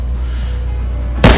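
A single loud gunshot in a bounty-hunting video game, a sharp broadband blast arriving at the very end after a low steady ambient hum.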